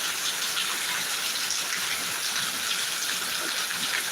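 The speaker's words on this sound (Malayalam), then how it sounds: "അതിശക്തമായിട്ടുള്ള മഴ കേട്ടോ" Heavy monsoon rain pours down in Kerala in a dense, unbroken hiss, steady and loud throughout.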